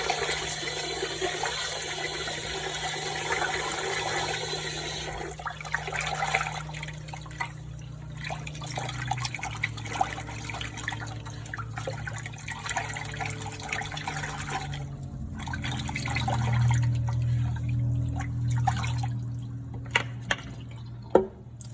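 Running water rinsing grits, a steady close splashing and trickling stream that keeps going for the whole stretch with small drips and sloshes mixed in, no voices.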